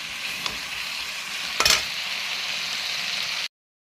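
Chicken being stir-fried in a pan for biryani, a steady close sizzle with a couple of brief stirring scrapes, no voices.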